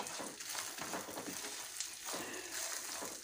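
Ridge gourd peel frying with peanuts in a pan, a soft, continuous crackling sizzle with light stirring, quiet and close, with no voices.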